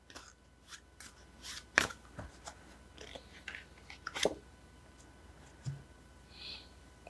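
Tarot cards shuffled and drawn on a table, giving a few sparse, close papery flicks and taps with quiet gaps between them.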